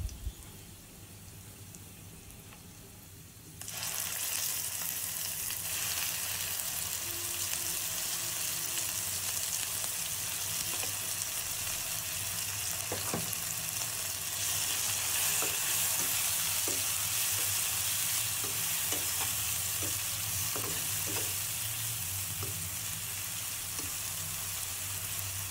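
Loud, steady sizzling as ginger, garlic, onion and cumin pastes fry in hot oil with bay leaves, with scattered scraping stirs and crackles running throughout after a quieter start.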